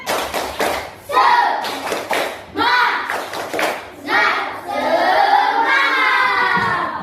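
A class of schoolchildren does a rhythmic spirit clap, bursts of clapping in a quick patterned beat alternating with loud group chanting and shouting, close by.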